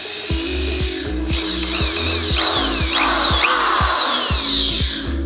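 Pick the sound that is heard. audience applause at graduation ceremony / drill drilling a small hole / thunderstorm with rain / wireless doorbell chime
drill drilling a small hole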